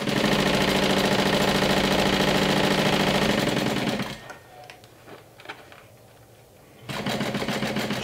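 A sewing machine stitches a seam on a Haunted Mansion-inspired crossbody bag, running loud and steady at close range, pausing for a few quiet seconds with small handling sounds, then resuming its continuous whir.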